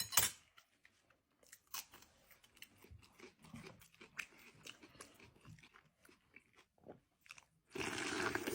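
Marinated eggplant in adjika is eaten close up, giving a string of irregular crunchy bites and chewing sounds, followed at the end by a sudden burst of louder broadband noise.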